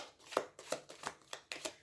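Playing cards being shuffled, about five quick riffling bursts in an even rhythm, close and fairly quiet with no talk.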